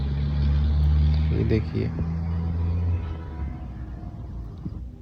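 A Hero Xpulse 200 4V motorcycle's stock exhaust idles as a steady, loud, low rumble that eases off after a few seconds, while someone talks in Hindi over it.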